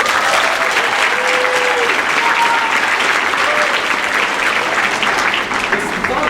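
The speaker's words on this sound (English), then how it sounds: "Let's give them a clap." Loud, sustained applause from a school concert audience for a middle school symphonic band, many hands clapping continuously at an even level.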